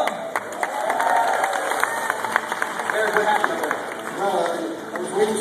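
A Fear Factor studio crowd cheers and claps for contestant Eric, a continuous wash of applause and shouts with voices mixed in throughout.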